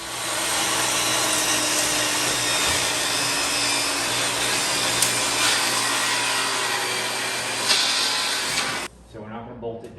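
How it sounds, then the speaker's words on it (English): A power saw cuts through a wooden shelf for a Bluetooth radio build, a loud steady whine that runs almost unbroken for about nine seconds before stopping abruptly, followed by faint handling sounds. "let's cut a shelf"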